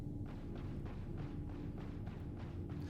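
Repeated energy-weapon discharges from a distortion cannon aimed at a Polaris capital ship in a space combat game, about ten muffled thumps at a steady quick rhythm over a constant low engine hum, no talk.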